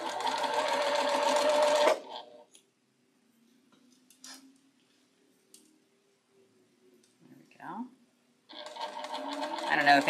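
A sewing machine stitches a curved quilt seam in short loud bursts of rapid needle chatter at the start and end, separated by a quiet pause with faint clicks and handling of the fabric.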